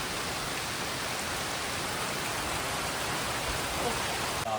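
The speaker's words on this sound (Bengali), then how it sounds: "কি সুন্দরভাবে বৃষ্টি পড়ছে" Dense, steady downpour of heavy rain, a constant broadband hiss close by with no pauses.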